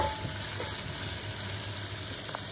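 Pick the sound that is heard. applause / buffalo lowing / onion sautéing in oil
onion sautéing in oil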